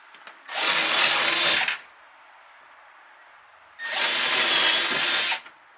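Two bursts from a Milwaukee power drill boring into wood, each roughly a second long with a loud high whir, separated by a quiet pause.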